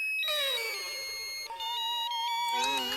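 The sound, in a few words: phone ringing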